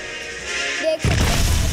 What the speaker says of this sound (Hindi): हम इसको फायर कर देते हैं।